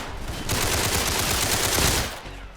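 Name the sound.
Tommy gun firing in Roblox Criminality video game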